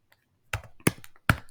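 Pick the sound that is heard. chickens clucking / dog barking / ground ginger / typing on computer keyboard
typing on computer keyboard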